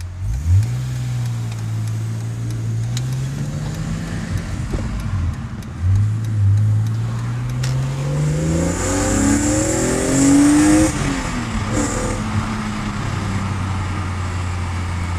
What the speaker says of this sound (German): Richtig Gas geben, weil vor uns einer ist und der hat gebremst.